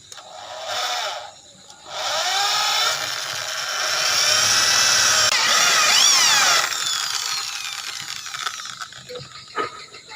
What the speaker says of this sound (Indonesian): Ini untuk pengeboran saya menggunakan mata bor ukuran diameter 3 mili teman-teman.